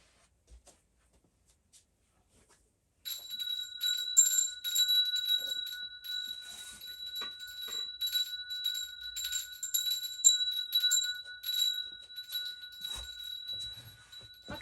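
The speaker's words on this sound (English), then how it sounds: "you get to hear my wonderful chimes" Wind chimes ring steadily for about twelve seconds after a quiet start, sustained metallic tones overlapping in a bright shimmering wash, close and moderately loud, with faint rustling underneath.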